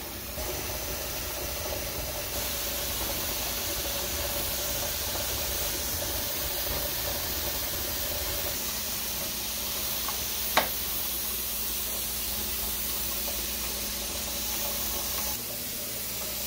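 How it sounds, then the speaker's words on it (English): Steam venting steadily from a pressure canner holding jars: a continuous close hiss and rush that barely changes, with one brief click partway through. "Can you hear it? It's blowing. It's blowing the air out of my jars."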